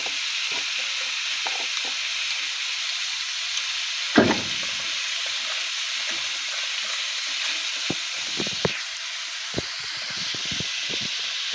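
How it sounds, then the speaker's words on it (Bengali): Spices with chili and cumin fry in a pan for a prawn and water lily stem dish, a continuous close sizzle with occasional scraping stir sounds and soft clinks. "মশলাটা কষিয়ে ভালো করে কষিয়ে নেব"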